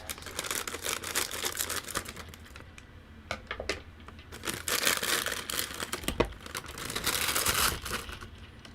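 Scissors cutting open plastic packaging on a boxed C-clamp from a Behringer studio microphone pack, with close crinkling, snipping and rustling in a busy, irregular burst.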